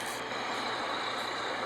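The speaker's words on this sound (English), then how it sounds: "This is a haul truck." Giant haul truck, the largest type of dump truck, rumbling past with a loud continuous engine roar and a high hiss of air.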